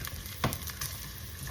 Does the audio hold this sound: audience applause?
no